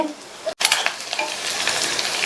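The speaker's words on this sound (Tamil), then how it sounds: "உருளைக்கிழங்க நம்ம எண்ணெயிலேயே ரோஸ்ட் பண்றதுனால கொஞ்சம் எண்ணெய் அதிகமாகவே சேர்த்துருக்கோம்" Potatoes roast in plenty of hot oil with a loud, continuous crackling sizzle and a brief stirring scrape near the start.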